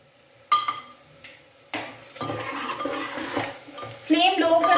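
A spoon stirs spices frying with amchur powder in a pan for a pumpkin sabzi, giving sharp scrapes and clinks followed by a steady sizzle that builds toward the end.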